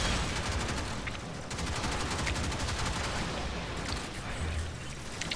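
Gunfire in the video game Warframe comes as a dense, continuous rattle of rapid shots, steady and fairly loud throughout with no clear pauses.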